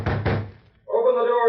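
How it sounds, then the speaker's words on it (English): Two quick, solid knocks on a door, followed after a short pause by a voice speaking. "Who's there? Open the door, Cardigan."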